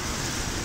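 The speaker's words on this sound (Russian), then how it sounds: "А так-то дождик у нас вот такой вот ливень." Heavy rain pouring down in a downpour, a dense, loud, unbroken hiss of falling water with no voices.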